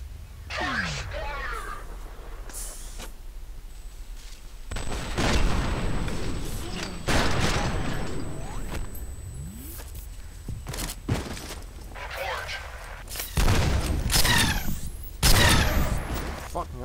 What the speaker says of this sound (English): Oh, they have repeating cannons.